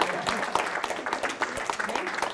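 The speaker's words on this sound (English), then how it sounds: "Oh yeah, clap. Everyone should clap." Audience applause at a sports medicine clinical talk, a steady, fairly loud patter of many hands clapping throughout.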